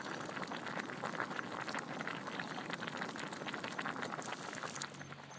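A pot of water rolls at a boil for cooking duck and Mi Goreng noodles, a steady, faint bubbling hiss that continues evenly and eases slightly toward the end, with no talking.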